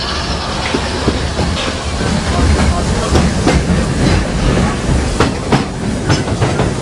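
The Walt Disney World Railroad train rolls along its rails with a loud, steady rumble, rhythmic clickety-clack of wheels on track joints, and a faint hiss of steam, all close by and continuous.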